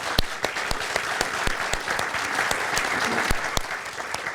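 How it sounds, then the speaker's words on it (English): A modest audience at an evening museum talk applauds after a musician's introduction, with sharp individual claps standing out over a steady patter that carries on for several seconds. "So join me in giving them a round of applause."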